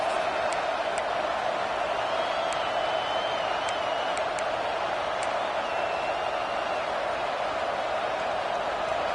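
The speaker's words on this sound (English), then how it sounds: "how nice is it to have the home crowd going absolutely bananas?" A home football crowd roars at Clemson's Death Valley stadium, a dense, continuous wash of distant cheering with a few sharp whistles and shouts poking through.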